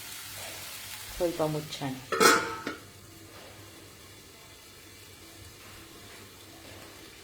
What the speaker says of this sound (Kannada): ಸೊ ಇದೊಂದು 2 ಮಿನಿಟ್ಸು ಫ್ರೈ ಆಗಲಿ.